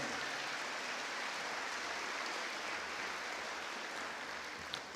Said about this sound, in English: How about a nice round of applause for those gentlemen?